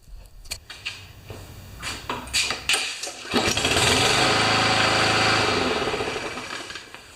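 A Powermore lawn mower engine, freshly repaired after a choke fault, sputters and pops through a few rough tries, then catches and settles into a loud, steady running buzz nearby.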